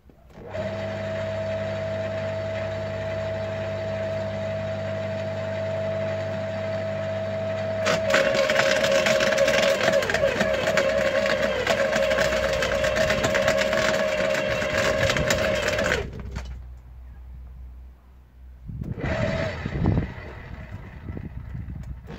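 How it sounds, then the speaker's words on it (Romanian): A Makita UD 2500 electric branch shredder runs with a steady motor whine, then loudly grinds and cracks a thick branch for several seconds until it jams and the motor cuts out, followed by a brief restart burst. "Deci să fiți atenți, după ce se blochează, se oprește și mi-aruncă, îmi dă creanga înapoi."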